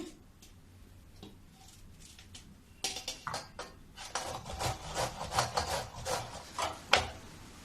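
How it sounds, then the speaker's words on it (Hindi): Bottle gourd (ghiya) rubbed by hand against a grater in a home kitchen, a run of quick rasping scrapes that starts sparse and quiet, then turns into a denser, louder rhythmic rasping. "इसी प्रकार मैं सारे घिया को घस लूंगी।"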